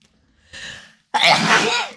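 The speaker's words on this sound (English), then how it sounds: "I'm about to sneeze again." A person sneezes, a short soft inhale first, then a brief pause and a loud, explosive burst lasting under a second, close and alone with no talk.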